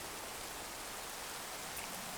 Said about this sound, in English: there's a mod that actually changes the way rain sounds when it hits certain things